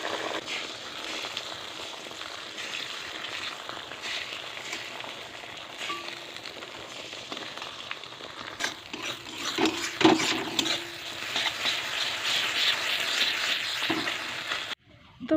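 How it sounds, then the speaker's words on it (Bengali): Two eggs fry in hot mustard oil in a home kitchen, a steady close sizzle and crackle lasting throughout, swelling louder near the end with a few utensil knocks. "এখানে তেল গরম হয়ে গেছে, এখন হচ্ছে গিয়ে দুটো ডিম ভালো করে দুটো ডিম এখন ভেজে নেব"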